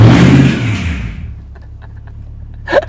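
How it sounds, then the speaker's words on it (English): A Lexus LS400 VIP-style sedan does a burnout, its engine revving loud and close at first, then fading away as the wheels spin, with a short knock near the end. "it won't do anything but burnouts right now"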